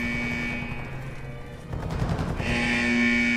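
Rapid bursts of gunfire crackle in DMZ, a sustained fusillade that grows louder midway through, heard over steady game ambience with no talk.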